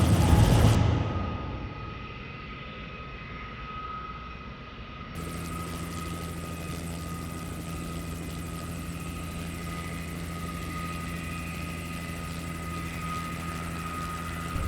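A helicopter drones steadily with a loud, continuous rotor and engine hum, heard alone throughout, flying over an earthquake- and tsunami-hit area of Car Nicobar.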